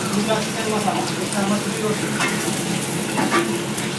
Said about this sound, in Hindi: मटन निकलि गेल फ्राई होइके लेल, अहाँ सब देख सकै छियै।